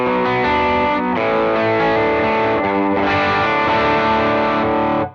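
A heavily distorted electric guitar rings out sustained chords through a crunchy amp tone, played continuously before cutting off at the end.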